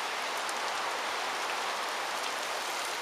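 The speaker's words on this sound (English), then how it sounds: "And that's pure rain." Heavy driving rain pours down during a storm on a smallholding, a dense, steady hiss with no breaks, loud and close with no talking.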